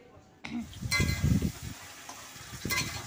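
Spice paste stir-fried in oil in a pan at close range, with a rising sizzle and busy scraping and stirring of a spatula that lasts a few seconds.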